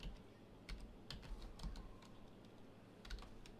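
Computer keyboard typing while entering commands in the CS:GO console: quiet, irregular bursts of key clicks, close and soft, with short pauses between keystrokes and no talk.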